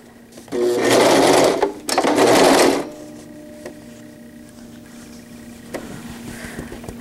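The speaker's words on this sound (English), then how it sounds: "And this time I'm going to sew my bag shut." A sewing machine stitching a zippered wetbag shut, running in two loud, close bursts of rapid mechanical whirring with a short break between, then falling to quiet handling noises and faint clicks.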